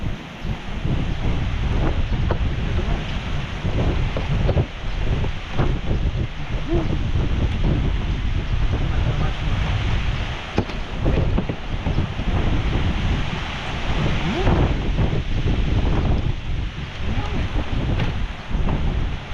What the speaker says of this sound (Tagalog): Hangin pa lang yan ha.